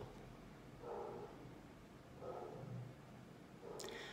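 Large dogs barking at a distance, three separate deep barks spaced more than a second apart, faint against a quiet background.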